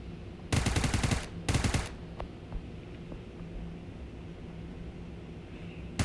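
Two short bursts of rapid automatic gunfire in PUBG Mobile, loud and close, followed by a quiet stretch of low background rumble with a few faint clicks.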